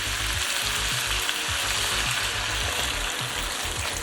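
Clams sizzling and bubbling in a pan with cooking wine, a loud close crackling fry with rapid popping bubbles and a few soft stirring knocks, steady throughout.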